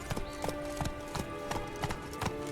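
Horse hooves clip-clop in a steady walking rhythm in The Witcher 3 game, close and clear over a soft ambient background, several paired hoofbeats evenly spaced.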